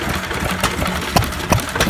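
A vintage stationary engine with cam-driven inlet and exhaust and a chain-driven magneto runs steadily at an open day, its low, even chugging broken by a few sharper periodic knocks.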